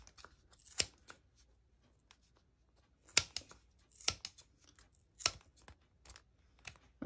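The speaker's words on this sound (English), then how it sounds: "Oh, these scissors are much, much better." Scissors snip yarn in quiet, irregular cuts, a few sharp crisp clips spaced apart with soft rustling between them.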